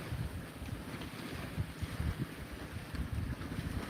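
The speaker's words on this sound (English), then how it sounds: "I hear the boat. Somebody's got a boat running out here. Most likely a trawler." A trawler's engine runs unseen offshore at night with no lights, a low steady rumble buried under heavy wind buffeting the microphone and the wash of surf.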